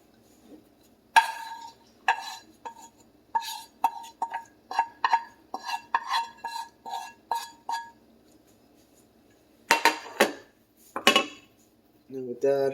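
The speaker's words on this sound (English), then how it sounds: "And then toss that with the egg omelet." Omelet being tossed with a pinch of seasoning in a pan, heard as bursts of metallic clinks and scrapes of utensil against cookware, a rhythmic run of knocks followed by a pause and a few more clattering strikes.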